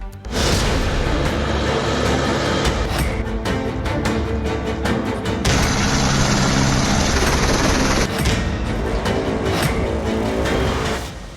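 An air force rescue helicopter works an avalanche rescue in Chamoli, its loud, steady engine and rotor roar filling the whole stretch without letup and swelling slightly in the middle.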